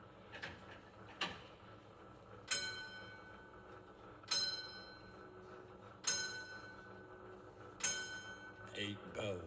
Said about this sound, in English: Eight bells, and all's not well.